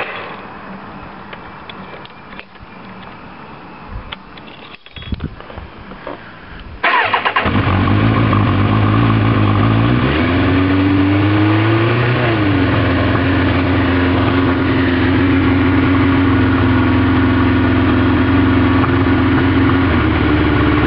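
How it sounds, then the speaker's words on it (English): A Suzuki Katana motorcycle with a brand-new motor, primed first, cold-starts after some clicks and cranking. It then settles into a loud, steady, close idle, with a small rev partway through. "let me start it up for you. This will be a cold start."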